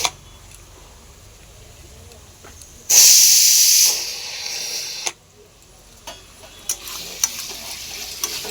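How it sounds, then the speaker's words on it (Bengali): Spice paste fries in a pan, a low sizzle with stirring clicks, interrupted by a sudden loud burst of hissing steam for about a second, then quieter frying with scattered scrapes. "মশলাটা কষা হতে থাকে"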